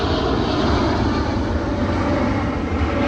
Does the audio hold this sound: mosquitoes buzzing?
no